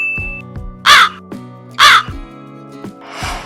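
A crow gives two strong, raspy caws close together, followed by a fainter, breathier third call, set against a quiet tonal background hum.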